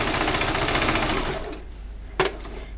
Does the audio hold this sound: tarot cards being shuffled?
no